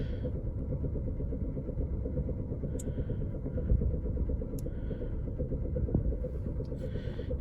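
A 2007 Toyota Prius with 278,000 miles idles roughly, a steady low engine rumble with a faint uneven pulse, heard up close and continuous with no talk.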